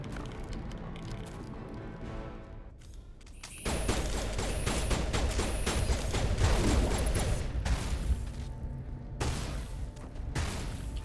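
Enemy gunfire in Mass Effect, a dense rattling fusillade of rapid shots that erupts suddenly after a quieter stretch and keeps crackling loudly, with brief pauses between volleys.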